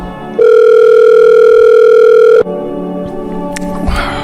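A loud, steady telephone dial tone sounds for about two seconds on an outgoing call, then stops abruptly, leaving quieter line noise, a faint click and some soft rustling.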